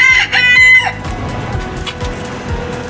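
A rooster on a Philippine backyard farm crows loudly and close by in one drawn-out call, followed by quieter low clucking from chickens nearby.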